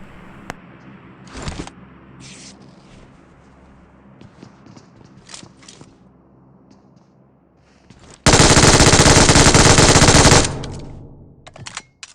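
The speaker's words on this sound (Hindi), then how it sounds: "मैंने इसके पीछे MG3 पेल के इसको पूरा ही फिनिश कर दिया" MG3 machine gun in a battle royale video game, opening up in one loud sustained burst of roughly two seconds, preceded by scattered distant shots and footsteps-like clicks over low game ambience.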